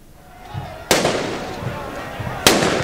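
Firecrackers thrown by protesters at a demonstration in Lima, Peru: two loud, sharp bangs about one and a half seconds apart, each leaving a ringing, decaying tail over a noisy outdoor background.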